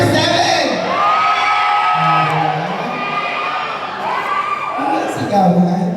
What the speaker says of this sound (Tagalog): Ano ang sigawan?